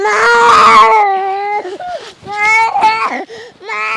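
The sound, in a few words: girl crying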